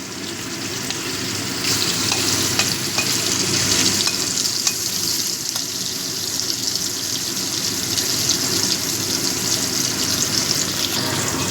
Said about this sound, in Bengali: এক একটা সাইড পনেরো কুড়ি সেকেন্ড সময় ধরে ভাজবো বেশি ভাজলে চিংড়ি মাছগুলো রাবারের মতো হয়ে যাবে